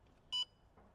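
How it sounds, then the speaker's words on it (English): A DJI Avata 2 drone controller gives a short electronic beep while pairing, a single clear tone lasting a fraction of a second, against quiet background. "It beeped."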